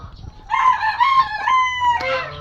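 A native chicken close by gives a drawn-out, wavering call followed by a short squawk, loud against a quiet, muddy yard.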